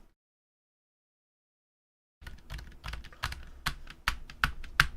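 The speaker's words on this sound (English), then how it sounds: "But this is a silent keyboard." Typing on a silent keyboard fitted with Outemu Honey Peach V2 linear switches: after two seconds of silence, a quick run of soft, muffled keystrokes with faint ticking, close and alone.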